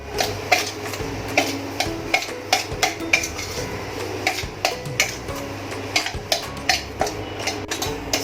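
Coarse wheat flour being roasted in a pan while a spoon scrapes and taps against the metal in a steady, repeated rhythm, close and fairly loud, with a faint background hum.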